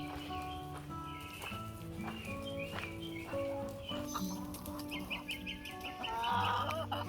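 Hens clucking at a backyard chicken coop built from reclaimed lumber in a Florida zone 9 food forest, soft repeated clucks layered under musical tones.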